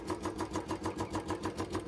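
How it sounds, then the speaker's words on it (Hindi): Royal Enfield Bullet motorcycles, BS3 and BS4 engines, one fitted with an original silencer and one with a free-flow silencer, idling with a steady rhythmic thumping pulse, fairly faint and continuous. "इस वाले इंजन की आवाज़ उस वाले इंजन से कम है"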